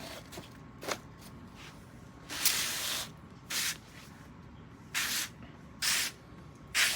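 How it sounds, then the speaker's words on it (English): Garden sprayer on a mist setting wetting shredded paper worm bedding for red worms, several short bursts of hissing spray, a few faint and some loud, with pauses between. "I got my sprayer on a nice mist setting."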